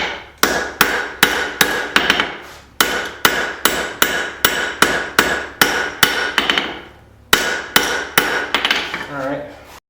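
Hammer forging hot metal to thin out a candle holder: a brisk, regular run of loud, close ringing blows in bursts of about five to six strikes, with short pauses between groups and no talk.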